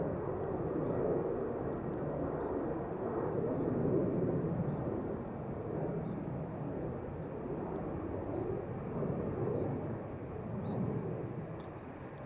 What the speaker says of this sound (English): That's a 787-10 Dreamliner.